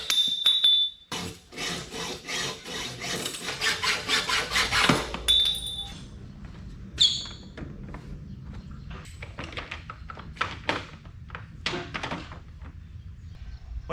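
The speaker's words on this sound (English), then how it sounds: "so we just got to use the old hacksaw" Hacksaw cutting through metal tubing for a Ford Raptor Power Wheels build: steady back-and-forth rasping strokes, loud and close, easing into lighter scraping and handling clatter toward the end.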